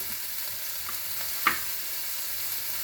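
Noodles frying in a pan with egg and pechay, a steady soft sizzle throughout with one brief louder crackle near the middle, no voices.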